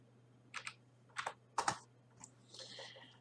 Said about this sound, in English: We'll open a command prompt and type in